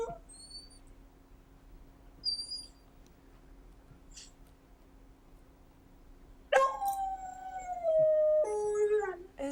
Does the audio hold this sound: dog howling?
yes